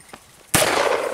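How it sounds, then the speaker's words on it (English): A single loud, close gunshot from a Contender pistol during a rabbit hunt with beagles outdoors, a sharp crack followed by a sustained ringing tail, with no talking. "Nice shot, Pops."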